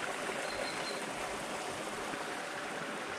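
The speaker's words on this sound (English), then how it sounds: "I can hear the whisper of the water and the birds singing." Steady broadband rush of a woodland stream flowing continuously at moderate level, no distinct birdsong or voices standing out.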